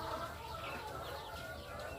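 Young layer-hen chicks in a brooder, a dense, continuous chorus of high peeping and cheeping close by, steady throughout with no voices.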